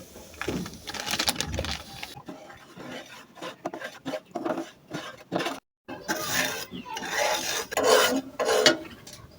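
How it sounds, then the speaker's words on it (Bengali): Semolina frying and being stirred in oil in a pan, a steady dry scraping and rasping of a utensil against the pan with brief pauses, close and moderately loud, with no talking. "তো এবার আমি সুজিটাকে সুন্দর মতো ভেজে নেব"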